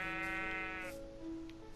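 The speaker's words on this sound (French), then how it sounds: "Je viens de voir qu'il y avait des moutons" Sheep bleating in the Minecraft video game, a single drawn-out wavering bleat near and clear, followed by a brief quieter bleat, with no talking.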